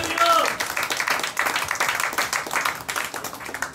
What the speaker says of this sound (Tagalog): Palakpakan natin ang Diyos.